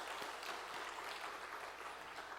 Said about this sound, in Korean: 여러분 우리 격려 박수 한번 하겠습니다.